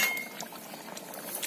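Fish curry simmering in a pot just uncovered, a soft steady bubbling with a light metallic clink of the lid or utensil near the start.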